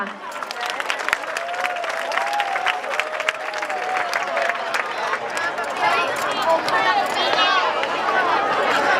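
Sustained crowd applause and cheering from an audience at a school concert's opening ceremony, dense and steady throughout with a mic'd voice and whistle-like tones riding over it.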